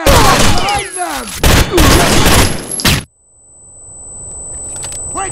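Gunfire and a grenade blast in the video game Rainbow Six Vegas, very loud rapid shots and explosions for three seconds that cut off sharply, leaving a high ringing tone and a faint rising rumble, with shouted voices mixed in.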